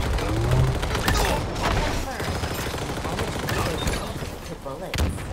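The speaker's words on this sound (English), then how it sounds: "Hail of gunfire" Rapid, dense bursts of gunfire in Halo Infinite crackle continuously, loud and close, mixed with explosions and other game effects.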